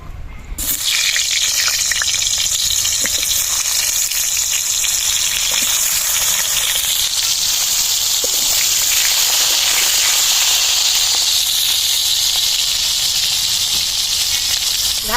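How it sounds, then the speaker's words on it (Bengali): Pointed gourd pieces fry in white oil in a wok, giving a loud, constant hissing sizzle that starts abruptly and holds steady throughout, close up and with no talk. "কড়াইতে আমি সাদা তেল দিয়ে দিচ্ছি, দিয়ে পটলটা আমি প্রথমে ভেজে নিচ্ছি"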